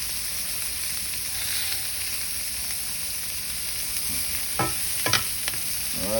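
New York strip steak frying in a pan with garlic butter and vegetables, a steady broad hiss and sizzle throughout with a few sharp utensil scrapes near the end.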